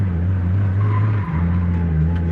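A car with a freshly built 2JZ engine drifts through a quick turn, its steady loud engine drone and tire noise heard from inside the car, with a short dip in engine pitch partway through.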